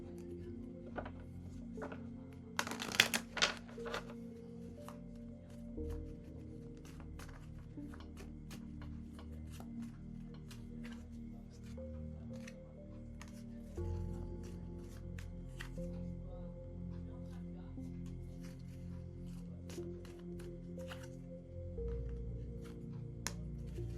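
Tarot cards being shuffled for a clarification card, a burst of riffling and slapping early on followed by steady soft card shuffling, close and alone with no talk.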